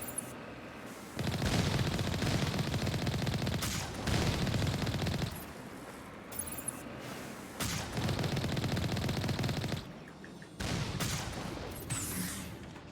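Mass Effect turrets fire in sustained rapid bursts, loud rattling volleys broken by short gaps, with whooshing fly-bys between the strings of shots.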